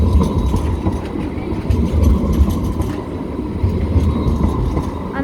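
A Sydney light rail tram at Wynyard passing close by, a loud continuous rumble of wheels on rails with rattling and a squeal near the end, no voices.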